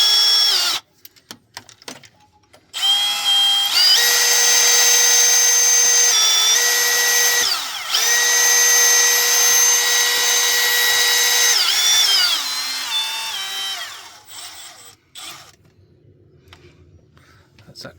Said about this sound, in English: We're just going to go in a bit more with the drill.